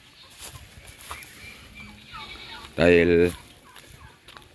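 A farmyard turkey lets out one loud, close gobble lasting under a second, rising above quiet outdoor background with faint clucking of hens around it; someone speaks briefly and softly nearby.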